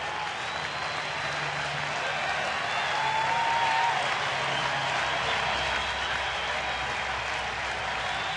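A baseball stadium crowd cheers and claps with a steady, distant roar of applause that swells slightly midway, heard without nearby talk.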